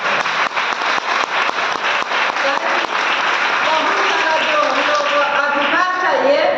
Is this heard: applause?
yes